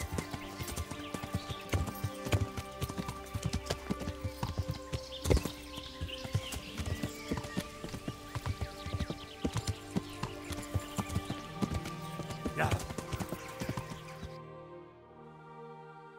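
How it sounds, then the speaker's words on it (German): Horse hooves clip-clop steadily while riding along a path in Kingdom Come: Deliverance, a continuous close rhythm of hoofbeats over game ambience, fading near the end. "Okay, wir reiten mal den Weg da runter."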